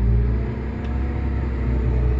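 A Valtra T154 tractor engine hums in a steady, close low rumble, with the power take-off engaged at 1000 rpm for spreading slurry, and the throttle opening gently with no sharp rev spike.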